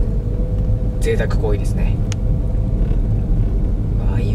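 A car rolls along Kyu-Karuizawa Ginza, the shopping street in Karuizawa, with a steady low rumble of engine and road noise throughout, while people talk inside over it.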